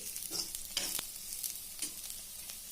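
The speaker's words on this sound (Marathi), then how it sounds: "मिरची चांगली परतून घेते" Green chillies sizzle in hot oil while a spatula stirs them, giving a soft continuous fry with irregular scraping strokes, close and quiet.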